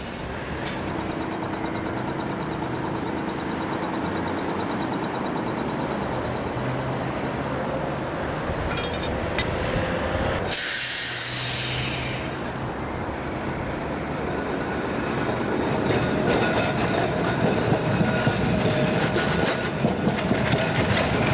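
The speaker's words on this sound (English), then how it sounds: "Here, a tram is on driver training duties." A classic tram on driver training duties runs along a UK tramway, a continuous rumbling roll with wheel clatter and a brief high squeal midway, steady and close throughout.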